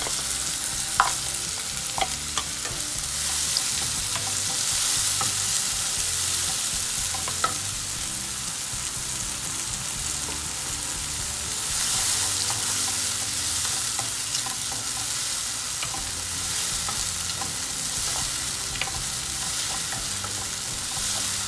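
Chopped onion and tomato sauté in a pan for masala macaroni, a continuous hissing sizzle with frequent spoon stirs and scrapes, close and steady, with no voices.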